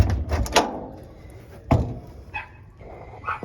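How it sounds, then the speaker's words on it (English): The door of a 1958 right-hand-drive VW Beetle is handled, with a couple of sharp metallic clunks and a latch-like knock close by, then quieter creaks and light rattles. "Open up this door right here."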